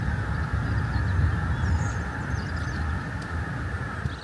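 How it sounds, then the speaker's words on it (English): Geese taking off from a nearby nature reserve, heard as a loud, continuous wash of wingbeats and scattered honking calls over steady outdoor rumble, with no one talking. "the sound of geese taking off"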